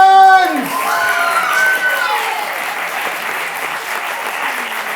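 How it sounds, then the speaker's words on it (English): Audience applause after a live stage card magic trick, a dense wash of clapping that swells in at once and holds steady, with a voice trailing off over the first moment. "give him a round of applause as he goes and takes his seat"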